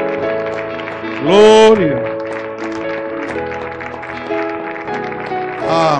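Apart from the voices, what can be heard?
church congregation applause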